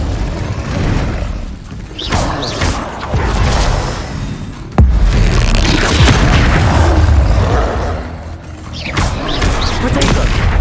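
Confringo and Incendio spell blasts in Hogwarts Legacy combat, repeated heavy booms and fiery bursts with a sharp impact near the middle, loud and continuous amid battle noise and voices.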